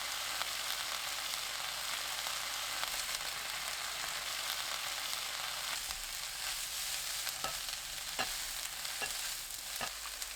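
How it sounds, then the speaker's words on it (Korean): Onion and fish cake stir-fried over high heat, a steady close sizzle with scattered light clicks of stirring throughout, no voices. "양파 어묵 넣고 센 불로 2분 볶습니다."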